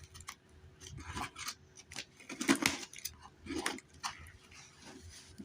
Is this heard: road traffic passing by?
no